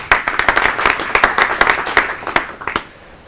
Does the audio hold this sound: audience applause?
yes